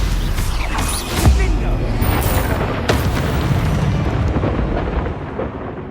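A Bombarda spell blast in Hogwarts Legacy: a loud low boom with rumbling debris and creaking mechanical clatter, close and heavy, followed by a sustained roar fading out.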